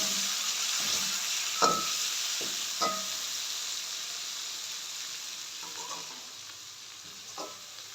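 Onions and tomatoes frying for a Jaffna-style sudai fish curry, a constant close hiss of sizzling oil broken by a few sharp scrapes of a spoon stirring the pan, no one speaking.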